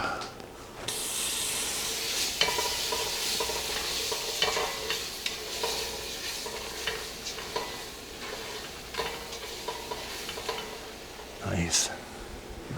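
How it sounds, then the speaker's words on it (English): Garlic sizzles in a pan of cooked-down flour roux for a seafood chowder, a steady close frying hiss with stirring scrapes throughout and a brief louder flare near the end. "Let's go ahead and add our garlic."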